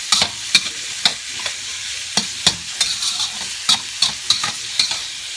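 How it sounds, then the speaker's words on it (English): Tofu stir-frying with hot peppers and garlic in a pan, a steady close sizzle broken by irregular sharp scrapes and clacks of a utensil stirring, about a dozen distinct knocks over the span, with no voices. "So we're just going to be stirring this up."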